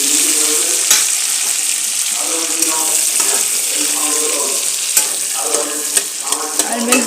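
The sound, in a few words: diced onions frying with ginger and garlic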